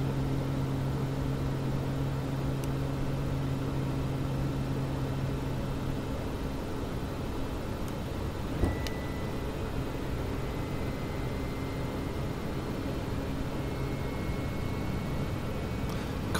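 FSReborn FS500 aircraft engines running in Microsoft Flight Simulator, a steady broadband roar with a faint tonal drone that fades after a few seconds, plus a soft click midway.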